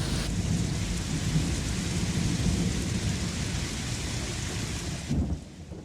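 Heavy rain pours steadily during a thunderstorm amid deadly flooding and landslides in Italy, with a deep continuous rumble of thunder beneath the downpour for several seconds before it suddenly eases near the end.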